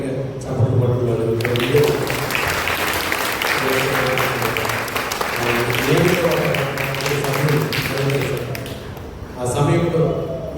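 A church congregation applauds during triduum prayers, sustained loud clapping that runs for several seconds under someone speaking into a microphone, easing off near the end before a brief final swell.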